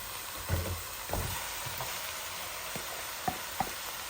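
Meat marinated in ginger, garlic, chilli and spices goes into a pan of partly fried onions for akhni pulao, giving a soft, even sizzle punctuated by light stirring knocks and a couple of sharp taps.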